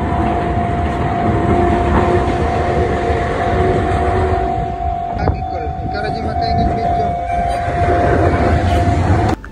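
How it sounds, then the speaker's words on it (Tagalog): A train pulls into a station in Kamakura, Japan, its steady rumble and rolling noise continuous throughout with a sustained tone, while people talk nearby over the din. "So dira dapita, muagi ng train."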